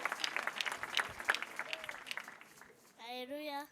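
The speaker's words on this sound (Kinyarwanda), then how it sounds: "Amashyi kwa Yesu menshi cyane." A church congregation at an ADEPR prayer service claps in dense, lively applause for Jesus, which fades after about two and a half seconds before a sustained tonal voice-like sound takes over.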